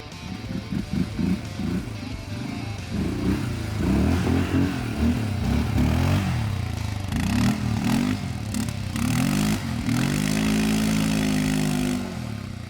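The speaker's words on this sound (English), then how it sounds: "I don't want to waste too much energy here, so I prefer to use the winch one more time." A Loncin X-Wolf 550L mid-size ATV works its winch on a steep ledge, its engine chugging and revving unevenly up close, with a strained whine from the winch rising toward the end.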